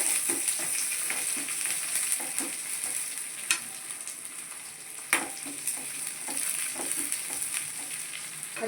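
Onions frying in a pan for raw-rice upma, a continuous moderate sizzle broken by scraping stirs and a couple of sharper utensil knocks.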